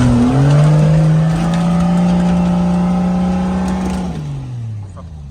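A Nissan Patrol engine revs hard and accelerates nearby, a loud steady drone that holds and then drops away near the end, with a voice speaking over it.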